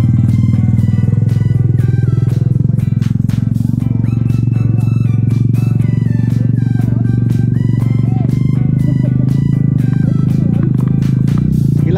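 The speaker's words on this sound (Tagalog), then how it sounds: "Motor, padaanin yung motor." A motorcycle engine rumbles loudly and close, its drone rising as it moves past, with people talking over the noise.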